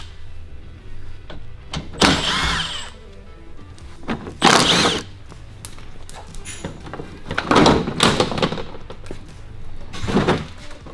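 Bolts being removed from the front bumper of a 5th-gen Toyota 4Runner during a Baja bumper install, with several bursts of a power ratchet or impact tool, each a second or so long, spaced apart amid quieter shop noise.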